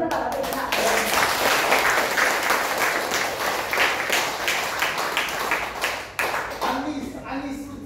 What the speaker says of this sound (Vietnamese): Và các anh chị dành một tràng pháo tay thật lớn cho các bạn các chị ạ.